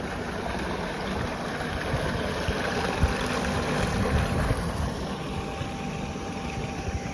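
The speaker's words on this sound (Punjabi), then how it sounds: "ਟੂਬਲ ਚੱਲਦਾ ਪਿਆ" A tubewell pump runs on a dairy farm, pouring out fresh water in a steady, dense rush with a low mechanical drone beneath, continuous and close throughout.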